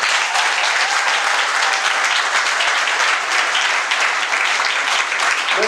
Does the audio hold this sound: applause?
yes